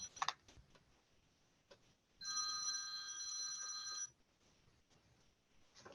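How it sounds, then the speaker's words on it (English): A telephone bell rings in one sustained burst of about two seconds, loud and clear against faint room noise, with no talking over it. "wouldn't you know, my phone is ringing"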